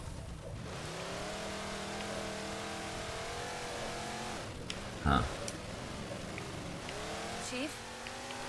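The Warthog's hydrogen engine in Halo 4 hums and revs steadily under game ambience, rising and falling in pitch, with a brief louder thump midway and a short murmured voice.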